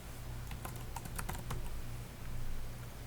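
A team name being typed on a computer keyboard in a design program, with a quiet, rapid run of keystrokes and a few louder key taps in a still room.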